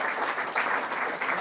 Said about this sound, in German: Nochmal Applaus für Angie.